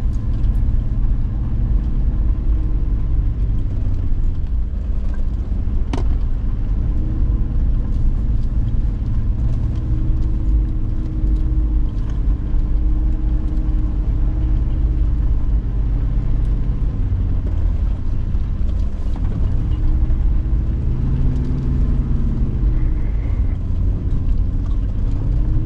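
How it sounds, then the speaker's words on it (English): An all-wheel-drive or four-wheel-drive off-road vehicle grinds up a steep mountain trail, its engine a loud, continuous low rumble with shifting drone and occasional knocks, no talking. "So we're now driving up a mountain range, and that's why this trail is getting so steep"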